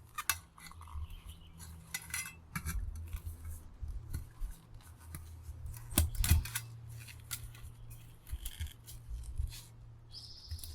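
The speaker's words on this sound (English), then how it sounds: "So I'm just cutting it right there in the center of the loop" Cutters snip through a wire loop while a garbage disposal is taken apart for scrap, giving faint metallic clicks and a couple of sharper snips over a low hum, with light clatter around them.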